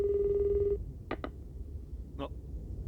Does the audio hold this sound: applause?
no